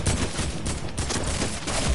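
Gunfire in the video game Fortnite during a solo squads match: a continuous, loud, rapid stream of close shots packed densely over two seconds with no talking.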